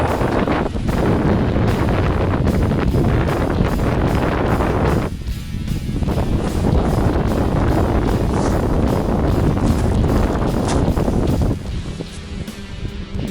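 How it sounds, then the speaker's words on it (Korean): Strong wind buffets the microphone at a winter freshwater fishing spot, a loud continuous roar with gusting surges and rumble throughout. "아니, 큰 고기 한 마리 잡았다고 바람이 이렇게 시기를 하나?"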